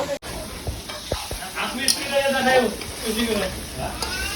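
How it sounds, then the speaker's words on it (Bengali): Masala being fried with potatoes in a pan, a steady close sizzle with scraping stirs and clinks of the spoon, someone talking over it. "আলু দিয়ে খুব সুন্দর করে মশলাটাকে কষায় নিচ্ছি"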